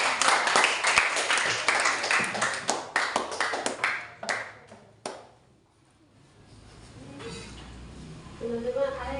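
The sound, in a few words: applause for the group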